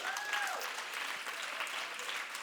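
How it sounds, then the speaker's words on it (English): Audience at a real estate partnership talk breaks into steady, dense applause that fills the whole stretch, with a brief whoop near the start. "Let's give him a round of applause."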